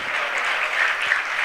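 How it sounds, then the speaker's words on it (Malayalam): During a sermon, a church congregation claps their hands in praise and worship, a steady, moderately loud patter of many hands that keeps going for the whole brief moment, with no voices over it. "കൈയടിച്ച് സ്തുതിച്ചേ, ഒന്ന് ആരാധിച്ചേ"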